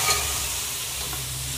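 Tinda (apple gourd) sizzling in a pan of fried spices while being stirred, a steady close frying hiss with soft scraping throughout.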